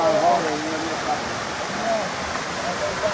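Steady rushing water of a mountain stream in the mountains of Alanya, Turkey, a continuous broadband wash with faint tonal gurgles, close and even throughout.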